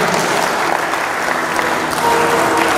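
A church congregation applauds and cheers steadily, with dense continuous clapping and crowd noise at even loudness throughout.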